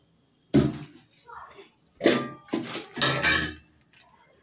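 Pots and utensils clatter loudly in several sharp bursts while a burnt kadhai wok is being scrubbed clean, with someone speaking briefly between the clanks.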